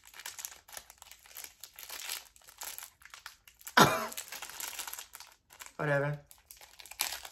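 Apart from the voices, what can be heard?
crinkling plastic packaging being opened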